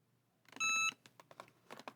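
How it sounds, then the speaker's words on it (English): A heat press timer, set for a 60-second press at 400 degrees, gives a single loud electronic beep, followed by faint tapping and handling noises. "When the 60 seconds is up, the timer will alert us."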